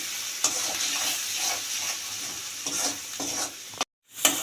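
A spice paste of ginger and garlic is sautéed in a pan for a fish curry, a constant sizzle with repeated spoon strokes scraping the pan, briefly cutting out near the end before resuming.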